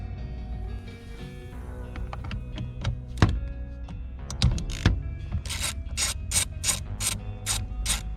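A ratchet loosens T30 Torx screws on a car steering wheel, giving a close series of sharp clicking ratchet strokes that become a quick rhythmic run of bright clicks toward the end.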